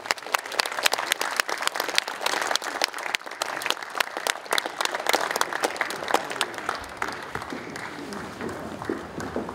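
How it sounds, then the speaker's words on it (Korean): A concert audience at a commemorative music event applauds to welcome tenor Shin Dong-won to the stage: steady, full clapping from many hands, slightly distant, continuing for nearly ten seconds before thinning toward the end. "큰 박수를 부탁드리겠습니다"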